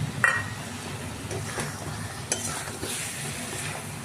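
Boiled eggs and potatoes are sautéed in a pan with biryani masala, red chilli powder and salt. A low steady sizzle runs throughout, with occasional stirring scrapes and a clink near the start.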